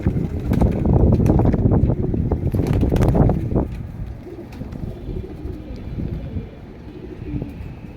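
Pigeons are let out of their loft after many rainy days, and a loud burst of flapping wings fills the first few seconds before fading to a quieter, breezy background with soft cooing.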